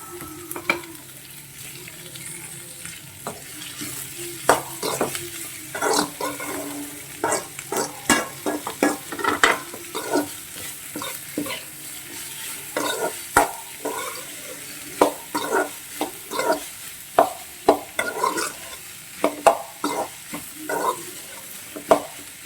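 Onions being sautéed with a little salt in a pan for onion egg gravy, with a steady soft sizzle and frequent sharp scraping, clinking stirs in an irregular rhythm, close and moderately loud, no talk.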